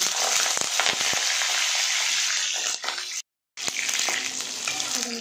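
Pieces of pointed gourd sizzle and crackle steadily in hot oil, a dense close frying hiss with a few stirring clatters and one brief dropout near the middle.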